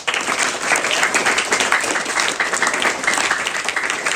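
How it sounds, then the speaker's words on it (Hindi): A large audience claps continuously and fairly loudly, a dense unbroken wash of applause throughout. "आप लोग ताली बजाते रहो"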